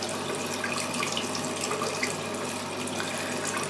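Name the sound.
water running from tap for rinsing face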